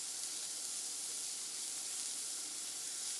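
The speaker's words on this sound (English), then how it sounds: "we can let the bacon cook down and see if we get the oil that we need" Bacon sizzling in a cast iron pan, a steady, bright hiss of frying fat that stays even and close for the whole stretch, with no talking over it.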